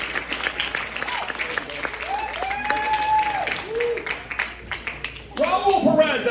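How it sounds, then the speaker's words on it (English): A comedy club audience claps and cheers at a moderate level, mixed with talk and laughter, and the applause swells louder toward the end. "Big round of applause for him."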